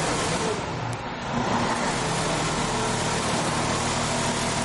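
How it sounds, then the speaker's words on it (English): An engine with an electronic speed governor settles back to idle speed, a loud steady broadband hum without pauses, close and alone. "Place the idle switch on position, back to idle speed."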